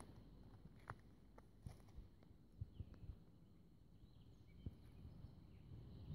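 Soft, irregular footsteps on a hard path, a few distinct taps spaced unevenly over a quiet outdoor background with faint bird chirps.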